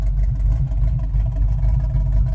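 A 1981 GMC Sierra K1500 engine with true dual exhaust headers idles steadily up close under an open hood, a deep continuous low rumble with no voices.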